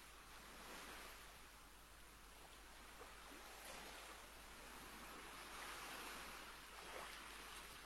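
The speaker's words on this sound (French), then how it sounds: "Au milieu des vagues et des mouettes," Steady broadband wash of ocean waves at a harbour jetty in the fantasy port city of Braavos, an even rolling surf with gentle swells and no voices.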